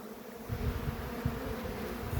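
Honeybees buzz steadily at close range at their hive, a dense droning hum swelling slightly as individual bees pass near.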